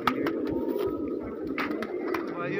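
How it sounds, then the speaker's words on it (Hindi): Several pigeons coo softly and repeatedly nearby, low throaty calls overlapping, with occasional rustling and faint voices in the background. "सारे कबूतर अच्छे हैं और सिलेक्टेड कबूतर हैं"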